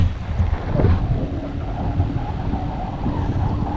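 Steady wind buffeting the microphone while riding a bicycle along an asphalt main road toward Naryn in Central Asia, a continuous low rumbling roar with gusty swells and no voices.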